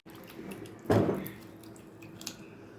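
Crushed figs being dropped into water and washed by hand, with a brief close splash and slosh followed by quieter trickling and dripping.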